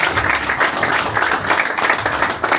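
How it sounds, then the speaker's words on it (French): A football team applauds itself after a French Coupe de France seventh-round derby, a steady crowd of hands clapping loudly and close, with scattered voices mixed in. "Et juste pour ça, vous pouvez tous vous applaudir."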